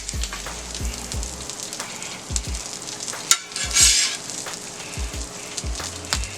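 Sausage fries on a steel griddle beside bacon, a constant sizzle with spitting crackles and intermittent metal spatula scrapes and taps, close and fairly loud.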